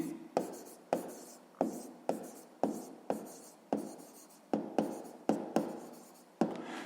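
A pen writing out a sixth-grade math solution on paper in a steady series of about a dozen short, crisp strokes, close and alone.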